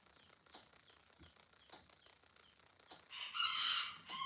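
Chicks on a ranch give faint, scattered high peeps at an irregular pace, then a louder burst of chirping near the end.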